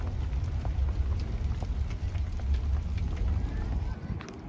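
Rain falls steadily outside a garden shed, heard from inside as a dense, even patter with a low rumble and scattered drop ticks throughout.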